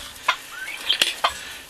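Turkeys and chickens in a winter farmyard give scattered short clucks and calls at close range, a few quick bursts over a faint background.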